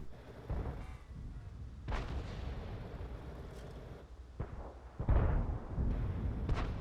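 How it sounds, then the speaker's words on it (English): Tank guns firing in a video game, including a blind pot shot into a bush: several booming shots spread out, the loudest near the end, over a low battlefield rumble. "somebody's blind shooting. Just took a pot shot into the bush"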